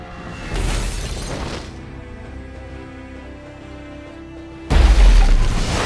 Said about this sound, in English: Batman bursts through the floorboards here to beat down a bunch of bad guys